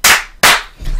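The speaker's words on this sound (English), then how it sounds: "Actually, this is the nerd clap." Podcast hosts give two sharp, loud, close claps in quick succession, each a crisp slap with a short decay, followed by a brief low rumble.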